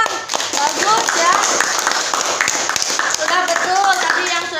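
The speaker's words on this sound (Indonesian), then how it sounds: "Tepuk tangan dong." Students in a classroom clap together in quick scattered bursts while voices chatter and talk over the noise throughout.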